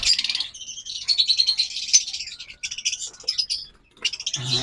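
A pair of pet birds, one green opaline and one light olive, chirp and tweet in quick, repeated bursts close by, with short pauses between trills and no talking.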